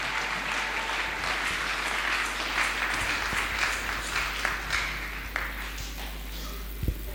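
A church congregation claps steadily in sustained applause, with a low hum running underneath and a few scattered louder claps near the end.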